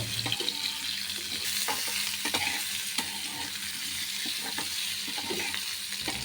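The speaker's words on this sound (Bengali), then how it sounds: "আমগুলো আমি এক মিনিট মতো নাড়াচাড়া করে মিডিয়াম ফ্লেমে একটু ভেজে নেব" Steady sizzle of raw green mango pieces frying over medium flame in a pan, with intermittent scraping and clinks of a spoon stirring; no voices.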